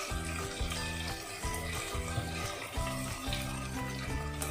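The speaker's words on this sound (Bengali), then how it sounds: "বাটিতে লেগে থাকা পেস্টটা আমি একটু জল মিশিয়ে ওতে দিয়ে দেব।" Paste rinsed from a bowl with a little water is poured into a pan of frying potato and pointed gourd curry, a steady watery splash and hiss running throughout over a low rhythmic background hum.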